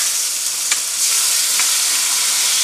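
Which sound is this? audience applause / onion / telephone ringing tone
onion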